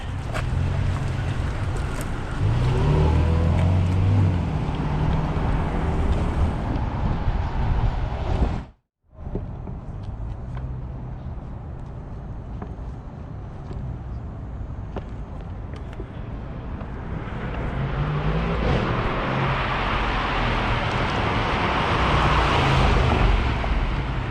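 A car speeds past a cyclist on a Seattle road, its rushing engine and tyre roar rising loudly over heavy wind buffeting on the mic, after a brief dropout in the sound.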